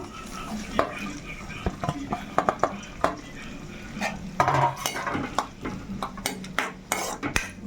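Onions tipped into a pan of hot oil with coriander leaves, a metal spoon scraping and clinking against the pan over a low sizzle, close and busy, with brief voice in between.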